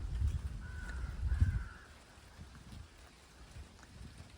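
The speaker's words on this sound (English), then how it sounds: "It's drizzling right now." Light drizzle falling outdoors by a horse paddock makes a faint, soft patter, with a low rumble and a brief tonal call early on that fade into a quiet, steady hush.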